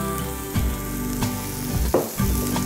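Sweet corn and vegetables sautéing in oil in a pan, sizzling steadily up close, with a few stirring and flipping scrapes breaking through the hiss.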